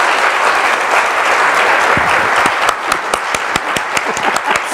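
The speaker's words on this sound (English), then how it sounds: "A round of applause for the judges." Audience applause for the judges at the 2018 Business Book Awards ceremony, a loud, dense burst of clapping from a crowd that thins into scattered individual claps toward the end.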